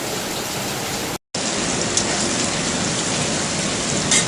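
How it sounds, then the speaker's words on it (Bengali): Heavy rain pours outside a home kitchen, a dense, loud, unbroken hiss of falling water interrupted by one brief cut to silence, with no voices. "বাইরে কিন্তু প্রচুর পরিমাণে বৃষ্টি পড়ছে আর আমি রান্না করছি।"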